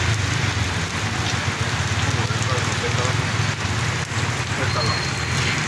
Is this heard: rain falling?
yes